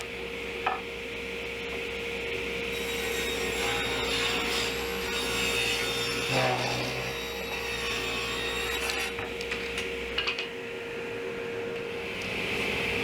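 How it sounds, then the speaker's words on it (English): A handsaw cuts a wooden 2x4 in half with repeated rough rasping strokes over a steady background hum, fairly quiet and ending in a few final scrapes. "Here I'm cutting a 2x4 in half"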